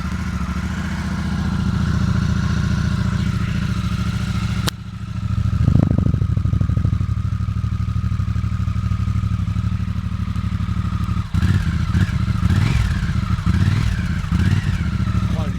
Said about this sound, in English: Start her up. Quite a nice rumble from the exhausts.